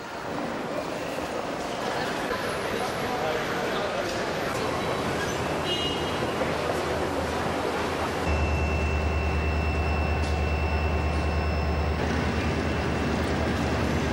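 A train travelling from Denmark to Sweden rumbles steadily with broad, noisy clatter, and a deeper low hum swells in partway through before easing off.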